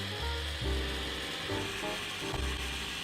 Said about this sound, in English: marking the pattern with the can and cutting it out with a jigsaw